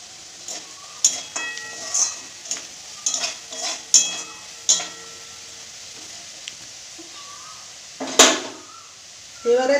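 Ground spices (coriander, turmeric, cumin) sautéing for a tomato and eggplant curry, with a spoon stirring and scraping the pan in a series of sharp clacks over a low, quiet sizzle, no talking.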